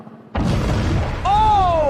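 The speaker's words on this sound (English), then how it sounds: "there has been an explosion on the Portland Spirit" Sudden loud boom of an explosion on the deck of the Portland Spirit boat, bursting after a brief quiet moment and followed by a sustained rumble with rising whistling tones.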